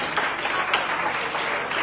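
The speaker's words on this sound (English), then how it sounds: "Let's clap for him." A crowd applauding steadily, dense clapping filling the whole short stretch at fairly close range.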